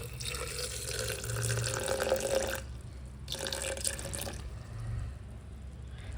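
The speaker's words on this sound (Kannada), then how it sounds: "ಈಗ ವಾಟರ್ ಆ್ಯಡ್ ಮಾಡೋಣ." Water runs from a tap into a mixer jar for jamun juice, a steady gushing stream that stops briefly, resumes, then tails off near the end, with no talking.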